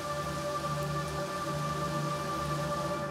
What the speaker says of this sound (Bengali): বাবা, কি বৃষ্টি শুরু হলো গো!